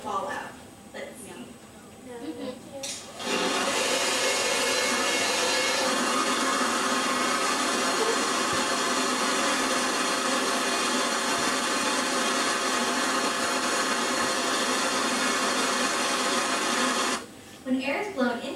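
A loud, steady broadband whir of a hair dryer switching on and running continuously for about fourteen seconds, blowing a ping pong ball in a funnel, with brief talk before and after.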